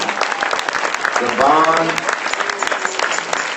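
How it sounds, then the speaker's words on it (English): Audience applause for DeVon Franklin at a USC faith leaders summit: sustained, loud clapping from a large crowd filling the whole stretch, with a voice speaking briefly over it. "Come on, let's give him another hand clap of praise."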